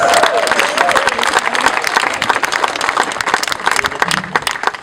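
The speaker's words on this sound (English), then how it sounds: "Give another wonderful round of applause." A crowd at a brewery and beverage company opening ceremony in the Bahamas gives a loud, sustained round of clapping, with some cheers and a few voices mixed in throughout.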